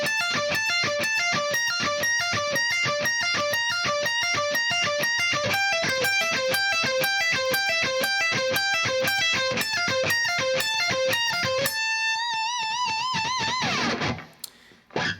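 Electric guitar plays the Mr. Crowley second solo lick slowly, a steady stream of clean picked notes in a repeating pattern, then a sustained chord ringing out and a brief handling noise at the end.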